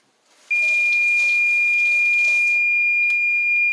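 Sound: kitchen timer alarm beeping that the noodles are ready

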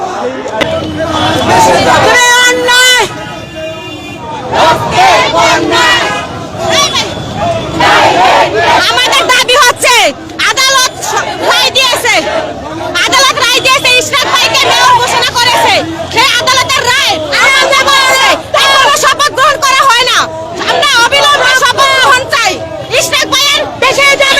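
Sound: protesters chanting slogans at a police barricade

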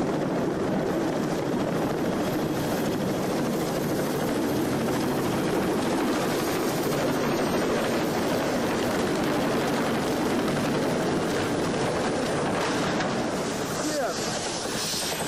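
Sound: CH-46 Sea Knight helicopter

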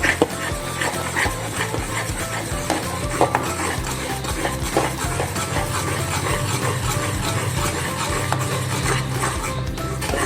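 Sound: stirring Mysore pak mixture with oil in pan

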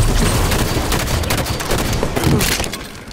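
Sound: gunshots in a video game

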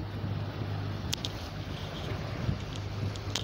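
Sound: sailboat under mainsail and motor, with wind

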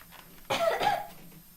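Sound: cough

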